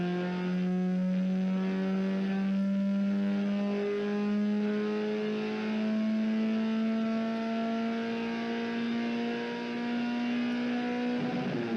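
A strapped-down car on a dynamometer revs hard with a steady rising engine tone, briefly easing as it shifts gears and then climbing again, loud and close with no talk.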